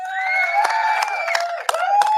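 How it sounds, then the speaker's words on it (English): Studio audience cheering and whooping with scattered claps and shouts, a steady dense crowd roar with a few sharp bursts throughout. "Round of applause to her."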